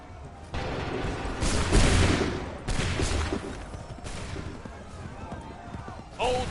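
Musket volleys crack in Assassin's Creed 3, several dense bursts of gunfire rolling out at intervals with a rumbling battlefield background between them.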